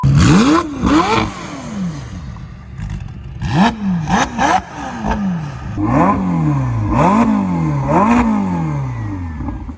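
A twin-turbo V8 supercar engine with a 7-speed dual-clutch transmission revs hard in repeated sharp bursts, each climbing and falling quickly, with brief pauses between throttle blips.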